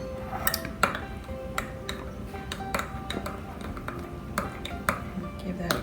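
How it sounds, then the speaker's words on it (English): A spoon clinks against a bowl while stirring ranch dressing for a tuna pasta salad, a steady series of bright, sharp taps repeating through the whole stretch, fairly close and moderately quiet. "Good stir, mix it"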